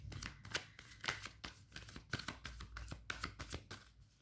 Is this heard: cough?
no